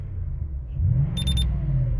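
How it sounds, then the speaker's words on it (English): A CAMMUS OBD II gauge pod sounds its shift alarm as a car revs past 2000 RPM, giving a short, high-pitched rapid beeping burst of about four pulses over the low, steady rumble of the engine. "as soon as we go past 2000 RPMs, it'll give us a notification"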